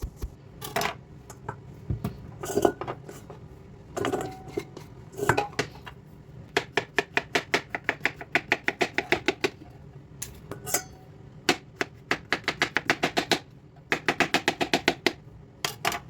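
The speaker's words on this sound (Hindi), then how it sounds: "प्याज जितनी देर में ब्राउन हो रहे हैं तो मैं zucchini भी काट लूँगी" A knife chops zucchini on a cutting board in a home kitchen: sparse single cuts at first, then fast rhythmic runs of close, crisp taps in bursts, no talk.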